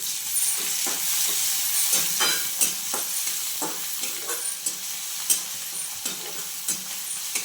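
Vegetables frying in a pan with tomato and coriander, a steady close sizzle with frequent scraping stirs and clinks, no talking.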